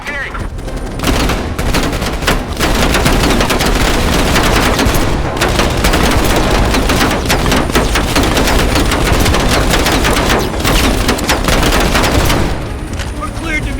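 Heavy, continuous machine-gun fire rattles from a helicopter in Call of Duty Black Ops Cold War, with sustained bursts and booming impacts under shouted voices.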